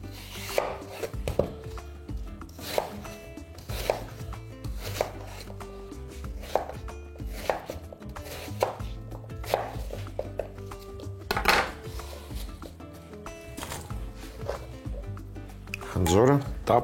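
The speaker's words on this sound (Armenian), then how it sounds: "Նույն կերպ կտրատում ենք մնացած խնձորը։" A knife chops apples on a cutting board in a steady run of sharp, close knocks spaced about a second apart, with faint scraping and utensil sounds under background music.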